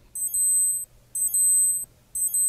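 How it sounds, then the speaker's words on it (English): Alarm of a Casio G-Shock G-7700 digital watch being tested, three bursts of high electronic beeping, each about two-thirds of a second long, with an echoing repeat effect. The bursts come at even intervals, loud and close. "By holding button D down for a few seconds, you'll be able to test the alarm."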